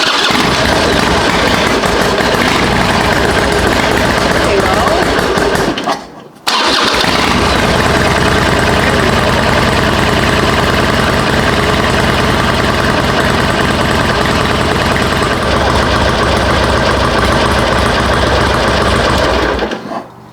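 A 2005 Harley-Davidson Sportster 1200 Custom engine runs loudly and steadily, cuts out briefly, then restarts and keeps droning at a rough idle until the end.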